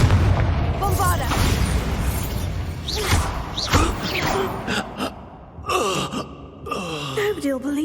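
Spell blasts from Bombarda and Confringo in the video game Hogwarts Legacy: several booming bursts and sharp pops over busy battle noise, with gasps and voiced effort sounds mixed in.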